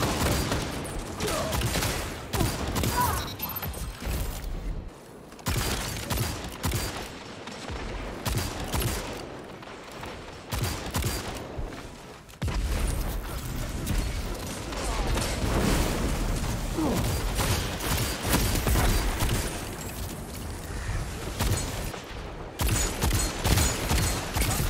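Shotgun fire in the Destiny video game, repeated blasts over a busy, dense game mix with booms and mechanical clatter running almost continuously and loudly, with brief quieter gaps.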